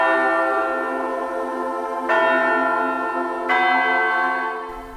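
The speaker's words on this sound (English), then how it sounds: "the sound of church bells could be heard across this great land" Church bells ring with long, rich sustained tones, each new strike swelling over the lingering hum of the previous one, steady and fairly loud, at a United States 250th anniversary commemoration.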